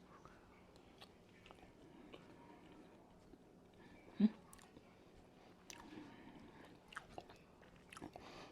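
Quiet, close chewing of caramelized onion pulled pork, soft wet bites and mastication with one sharper bite midway and scattered small smacks, no speech.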